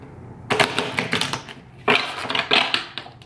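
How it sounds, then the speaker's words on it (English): A deck of tarot cards being shuffled by hand in close, loud riffling bursts, two main rounds with crisp papery flutters and a brief pause between them, no talking. "I'm just going to shuffle these through a little bit."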